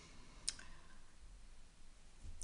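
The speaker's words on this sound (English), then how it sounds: "I'm just showing you the mouse clicks and what to code" Mouse clicks on a Windows computer running ATLAS.ti 7 qualitative analysis software: one sharp, quiet click near the start and another at the end, over faint room hiss.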